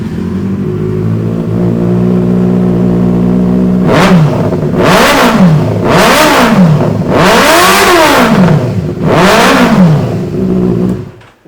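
A Benelli four-cylinder superbike with an aftermarket exhaust idles loudly, then rises through four sharp, escalating revs, each climbing and falling back, before cutting off abruptly.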